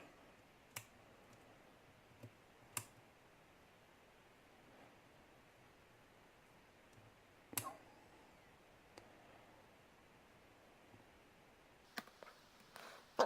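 Faint, sparse clicks from pins inside a challenge lock being picked under light tension, a handful of tiny isolated ticks spread over a quiet background hiss, close and without speech.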